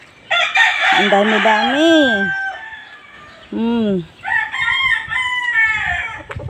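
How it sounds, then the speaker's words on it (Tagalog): Chickens and a rooster on a poultry farm, with repeated crowing and clucking from several birds close by, while a person talks between the calls. "Ito, dami ditong manok."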